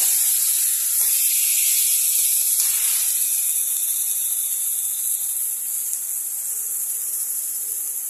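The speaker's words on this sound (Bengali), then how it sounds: "দেওয়ার পরে আমি এটাকে ভালো করে এভাবে নেড়ে চেড়ে নেব।" Potol dorma filling sizzles steadily in a hot pan with a continuous bright hiss, a few soft stirring scrapes early on, and no talking over it.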